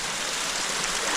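A waterfall in Bohol, Philippines pours a steady, dense rush of water, a broad hissing roar that stays constant and close with no other sounds.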